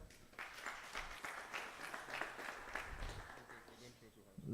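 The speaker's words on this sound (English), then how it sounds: "Give him a round of applause, guys" A small group at a network meetup in Brussels gives a round of applause, a quick patter of clapping from several people, faint and somewhat distant, with voices mixed in.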